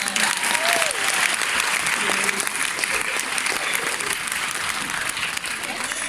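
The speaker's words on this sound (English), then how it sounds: "Round of applause for that person." Audience at a live Q&A event breaks into continuous applause for a person, a steady wash of clapping with a few whoops and cheers early on, holding level throughout.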